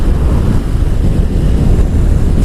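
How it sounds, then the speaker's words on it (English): Strong wind blasts straight into the microphone beside a Triumph Sprint GT SE 1050 motorcycle, a loud, constant low rumble of buffeting with no pauses. "It's very windy today"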